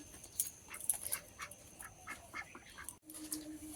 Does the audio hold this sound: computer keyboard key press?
no